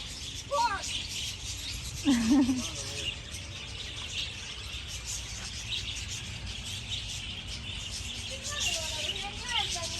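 A budgie chirps in a few short, high bursts while feeding, close but intermittent, set against a steady background hiss and light rustling.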